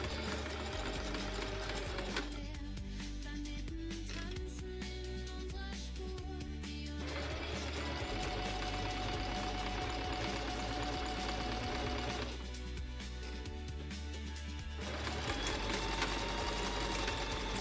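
A sewing machine stitching fabric for a yarn bowl, steady mechanical whirring in runs with two short pauses, close and fairly quiet.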